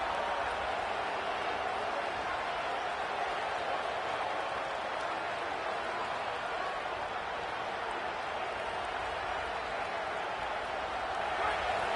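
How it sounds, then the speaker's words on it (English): Football stadium crowd at an Arkansas Razorbacks game against Florida, a steady roar building on third down, dense and continuous across the stands with a play-by-play voice talking over it. "Decibels rising as the crowd gets behind this defense on 3rd down."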